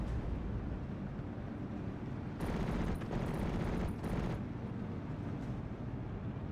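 Anti-aircraft fire in a Steel Division 44 battle, heard as a steady broadband rumble of continuous gunfire that swells into a louder, denser burst midway before settling back to the distant roar.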